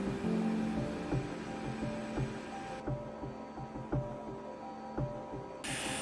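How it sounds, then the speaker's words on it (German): Machine hum with rhythmic thuds and a steady tonal drone of CNC lathes machining brass components in a workshop; no voices. "Auf den CNC-Drehmaschinen fertigen wir Komponenten aus Messing"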